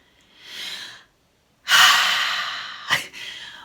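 A person breathes audibly up close: one slow breath, a pause, then a long, strong inhale or exhale with a short sharp sniff near the end, alone without talk.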